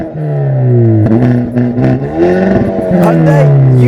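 Hyundai Veloster N with a 2-litre turbocharged engine revving up loudly and close, the pitch climbing and dipping through several blips and surges.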